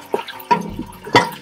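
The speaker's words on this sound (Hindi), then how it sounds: "अब इसके अंदर हमने हल्का सा पानी, बिल्कुल 1/2 ग्लास से भी कम पानी ऐड करना" Water splashes into a hot pan of fried garlic and ginger for a kadhi pakora curry, a few short drips and splashes in uneven bursts, close and fairly loud with no talking.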